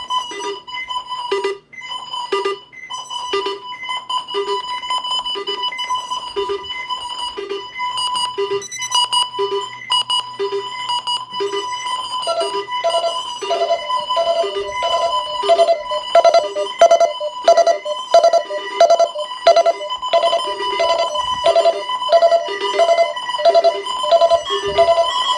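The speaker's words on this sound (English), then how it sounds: "Yep, all my radios are going off." Many alarm clocks and radio alarms ring at once, a dense, loud wall of repeated bell and beep tones that keeps building across the whole stretch with no talking.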